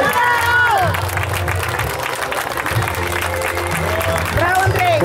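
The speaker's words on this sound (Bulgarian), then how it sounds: "Вашите силни аплодисменти за Андрей Кирилов Стоичев!" Crowd applause and cheering for a player at an awards ceremony of a mini football tournament, mixed with babble, background music and an announcer's voice over it.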